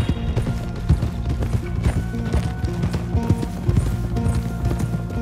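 Horse hooves clip-clopping at a steady walking rhythm in Red Dead Redemption 2, close and clear, approaching stables over a low ambient bed with some creaking.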